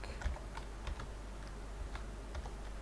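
Soft, quick typing on a computer keyboard, a few light clustered keystrokes spaced irregularly over a quiet hum.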